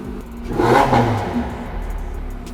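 A powerful 875-horsepower 4.6-litre naturally aspirated V8 hypercar engine, derived from a Le Mans engine, revs up close, rising in a short throaty burst and then settling back to a rumbling idle.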